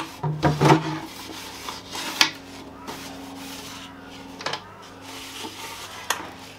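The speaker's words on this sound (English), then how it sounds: "lint-free rag, buff the excess off" A lint-free cloth buffs excess wax off chalk mineral painted wooden furniture, giving soft intermittent rubbing and wiping strokes with a few light knocks, close and quiet.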